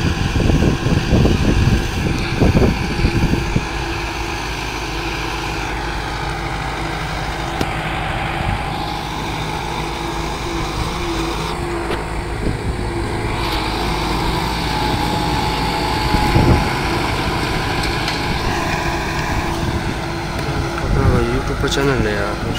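A Kubota MU 5501 4x4 tractor pulls a 24-disc harrow through a field, its engine holding a steady, continuous drone throughout while a voice talks over it.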